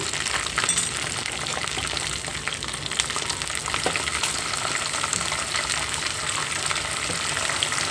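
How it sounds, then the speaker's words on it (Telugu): Frying in ghee for a semiya sago payasam, a dense, even hiss of sizzling that carries steadily throughout with a few small crackles and no talking. "నెయ్యిలోనైతే వేయించుకుంటున్నాను"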